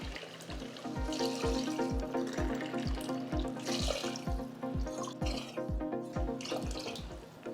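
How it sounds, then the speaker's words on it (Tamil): Water pours steadily into a cooking pot for quail biryani, a continuous close gurgling splash with a regular pulsing beneath it. "ஓகே இப்போ நம்ம பிரியாணிக்கு தண்ணி வைக்க போகிறோம்"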